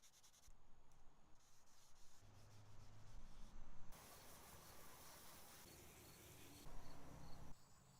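Black paint is sanded off car lights by hand, a steady rough rubbing in bursts of changing strokes, close and fairly loud with no talking.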